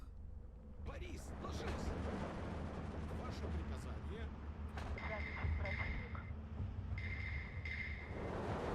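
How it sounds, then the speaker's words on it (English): Incoming mortar fire in the Steel Division 2 wartime strategy game lands as several dull thuds and blasts scattered through the clip, with a voice talking over the battle noise. "Oh, look at all that mortar fire coming in."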